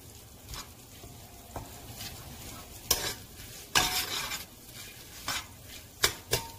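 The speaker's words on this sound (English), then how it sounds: "Let it sizzle" Butter and bay leaf sizzle softly in a pan under repeated scraping and stirring strokes, with a few metallic clinks of a utensil against the pan.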